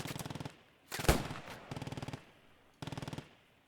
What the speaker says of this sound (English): they are being suppressed by that one MG over there